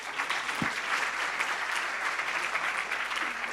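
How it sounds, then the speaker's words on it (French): A large conference audience applauds two panelists at a tech event session, a dense, steady wash of clapping that stays loud throughout with no speech over it. "Je vous demande une dernière fois d'applaudir nos 2 panélistes."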